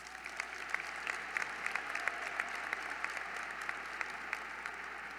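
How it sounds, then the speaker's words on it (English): A large commencement audience at Syracuse University claps in a sustained, even wash of applause, heard faintly and from a distance with sharper individual claps popping out of the crowd. "You can clap"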